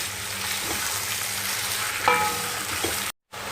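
Minced chicken or minced meat frying in a pan with browned onions, a steady close sizzle broken by a few scraping stirs and a brief clink, then a sudden short cut to silence near the end.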